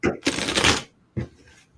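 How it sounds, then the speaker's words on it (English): A deck of tarot cards is shuffled by hand, heard close and loud as one long rapid riffling burst followed by a second shorter one after a brief pause. "This deck needs to be shuffled."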